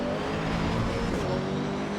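A race car engine droning steadily in Assetto Corsa Evo, a loud continuous mid-pitched hum with a slight swell and no speech.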